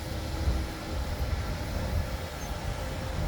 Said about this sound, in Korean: 밑에서 바라보는 바다열차는 또 하나의 볼거리로 자리 잡은 것 같네요.